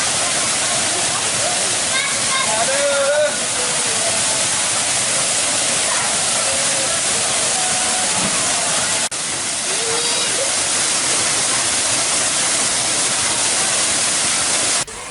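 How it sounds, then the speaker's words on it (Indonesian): Curug Pelangi, a natural waterfall about 7 meters high, pours with a loud, steady broadband roar close by, while a voice talks faintly beneath the rushing water. "terdapat air terjun yang indah, yang tingginya sekitar 7 meter"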